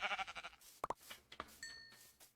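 Sheep bleat in a video game, a few short separate calls after a burst of rhythmic thumping, with a faint high tone near the end.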